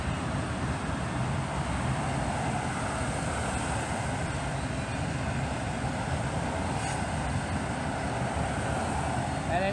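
A freight train rolls past a trackside spot carrying a Southern Pacific auto rack car, giving a continuous, even rumble and roar of wheels on rails. The sound is moderately loud and steady throughout, with a faint screech briefly rising near the end.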